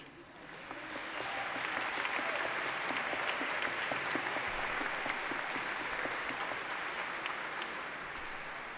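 A church congregation at a youth Mass claps steadily, building quickly to full applause and holding it for several seconds before tapering slightly at the end; no talking over it.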